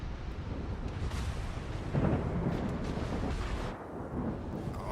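Torpedo hits explode against a warship in a naval battle video game, giving low, rumbling booms that swell and roll continuously without pause.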